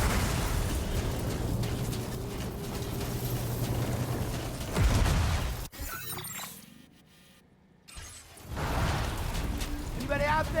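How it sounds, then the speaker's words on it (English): A large explosion in Death Stranding 2 roars as a loud, sustained broadband rumble that cuts off abruptly, drops into a quieter stretch, then swells again. "That explosion."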